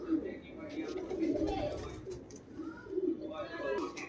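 Punjabi Malwai pigeons coo in low, soft, repeated throbs close by, several birds overlapping in a steady murmur beneath someone talking.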